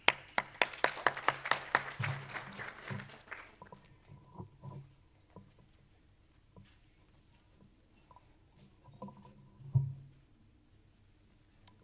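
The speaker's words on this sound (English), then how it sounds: "So please give a round of applause." Applause at a corporate breakfast meeting, a few seconds of scattered clapping from a small audience that fades out quickly, followed by quiet room tone with occasional faint knocks and clinks.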